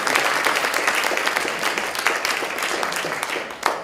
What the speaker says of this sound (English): should we give some applause?